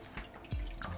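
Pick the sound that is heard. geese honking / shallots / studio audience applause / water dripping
water dripping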